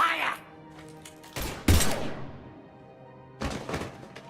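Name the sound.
gunfire in the video game Mass Effect 3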